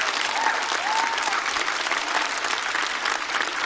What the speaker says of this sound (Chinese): 掌声送给小四爷